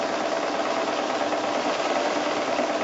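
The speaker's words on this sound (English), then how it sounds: "So this really is just like drawing with your sewing machine." A sewing machine stitches steadily during free-motion quilting on a fish design, a continuous close mechanical whir with no pauses or voices.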